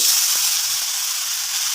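Shrimp heads fry in a hot pan of oil, giving a steady, bright sizzling hiss that stays loud and even throughout, with no talking.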